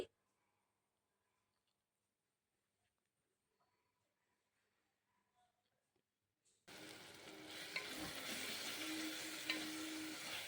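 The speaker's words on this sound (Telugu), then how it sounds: "పుదీనా కరివేపాకు కొత్తిమీరని కూడా వేసుకొని కలుపుకోవాలి" Tomatoes are stirred in a pan with mint, curry leaves and coriander while cooking veg biryani, a loud steady sizzle and frying hiss with stirring scrapes that begins abruptly after near silence, with no talking.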